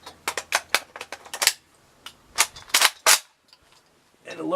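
M72B1 rifle built from an Apex parts kit, fired through a full 30-round magazine: a rapid string of sharp, loud close-range shots in quick semi-auto bursts with short pauses between them, trailing into quieter handling noise.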